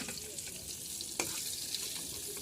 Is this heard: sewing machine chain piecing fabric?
no